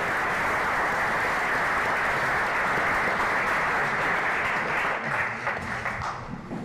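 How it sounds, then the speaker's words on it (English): A crowd at a Black male development symposium barbershop talk claps for a father stepping up to speak, a thick sustained round of applause that thins and fades over the last couple of seconds. "Y'all clap it up for the brother."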